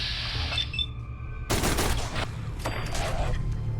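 Burst of video game gunfire from a gun in a modded Fallout 4, a dense rattling volley lasting about a second, then a second shorter burst, over a steady game background hum.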